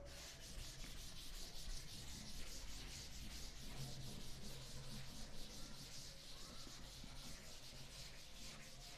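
An eraser rubs quickly across a board in steady, scratchy back-and-forth strokes, faint but continuous, with no talk.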